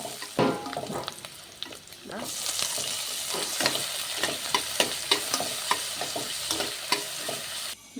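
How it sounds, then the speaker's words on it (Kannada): Onion and a green chili fry in a hot pan with ginger-garlic paste for Hakka noodles. A loud steady sizzle runs throughout, broken by repeated scraping stirs of a spatula. "ಈರುಳ್ಳಿ, 1 ಮೆಣಸಿನ್ಕಾಯಿ, ಸ್ವಲ್ಪ ಕೆಂಪಾಗೋ ತನಕ ಸ್ವಲ್ಪ ರೋಸ್ಟ್ ಮಾಡೋಣ"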